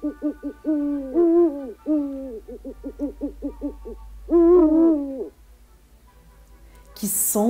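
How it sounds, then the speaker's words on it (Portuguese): An owl gives a deep, low hoot repeated in a steady rhythm of short pulses with a few longer swelling calls, loud and close, then falls quiet before a brief noisy burst at the end. "E a coruja produz um som grave"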